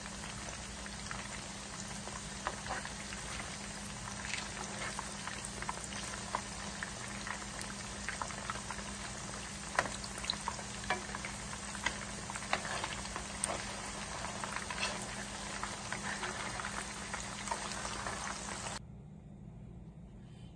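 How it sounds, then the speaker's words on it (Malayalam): Fish frying in hot oil in a pan for a Kerala-style dish, turned to cook the second side: a dense, steady bubbling crackle holds evenly for about nineteen seconds, then cuts off abruptly, with no talking. "ഇനിയും ഇത് മറിച്ചിട്ട് മറ്റേ സൈഡ് കൂടെ ഇതുപോലെ വറുത്തെടുക്കാം"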